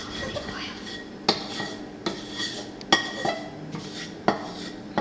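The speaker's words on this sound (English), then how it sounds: "So now we're going to stir it. I'm gonna mix all that yummy oregano with this olive" A spoon scrapes and knocks around a pot while oregano is stirred into olive oil, giving soft metallic scraping broken by several sharp clinks against the sides at irregular intervals.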